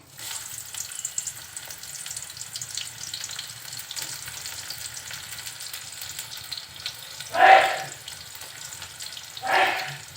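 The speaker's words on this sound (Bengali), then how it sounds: "তেলের ভিতর দিচ্ছি গোটা গরম মশলা, দিচ্ছি পেঁয়াজ কুচি একটু বেশি পরিমাণে" Whole garam masala and chopped onion fry in hot oil with a steady, soft sizzle, swelling into two louder hissing bursts near the end.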